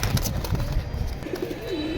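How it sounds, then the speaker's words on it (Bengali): A pigeon held in the hand coos and flutters, a few soft low coos following some rustling wing flaps, close and alone. "কবুতরটি ভাই এত ঝটপটায়"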